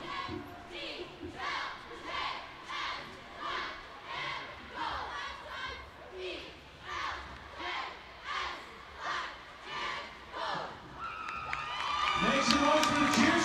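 Cheer squad at a high school football game chanting a cheer in unison, rhythmic shouted phrases repeating in regular pulses from a distance, ending with a louder burst of crowd cheering.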